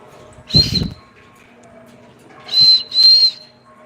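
A person whistles nearby: one short, clear, high note, a pause, then two more quick notes in close succession, fairly loud against a quiet room.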